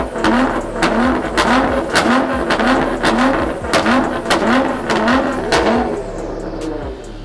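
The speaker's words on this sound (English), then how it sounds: "I think we need to rev it up as well." A Nissan GT-R, wrapped in a bold new colour, revs repeatedly close up, its engine rising and falling in a steady series of sharp blips over a low idle.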